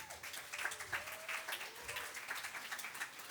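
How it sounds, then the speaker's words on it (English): A Belfast audience gives a dense, steady round of applause, fairly faint and somewhat distant, lasting throughout with no clear talk. "Give him a round of applause."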